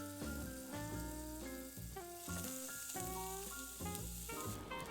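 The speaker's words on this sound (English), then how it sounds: "did you hear that sizzle sound?" Pork sausages browning in an oiled pan, a soft, steady sizzle with occasional crackle heard faintly beneath a musical backing track, with no talk.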